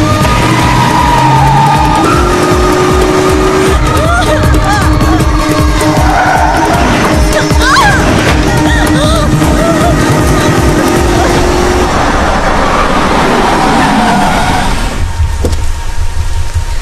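A motor vehicle skids with squealing tires in a road accident, loud and dense with engine roar and screeching that fades toward the end, mixed with background score and faint voices.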